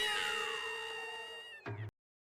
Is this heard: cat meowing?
yes